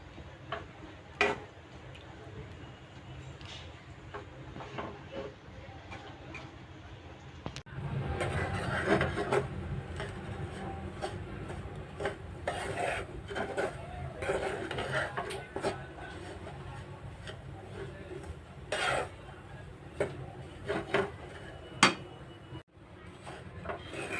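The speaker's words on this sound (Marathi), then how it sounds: "त्यामध्ये तांदळाचं पीठ घालूया आणि ते चांगलं आता खरपूस भाजून घ्यायचं" Rice flour roasting in ghee in a pan for soft rice laddu, stirred with a utensil that taps and scrapes irregularly against the pan, close and moderately loud over low background noise.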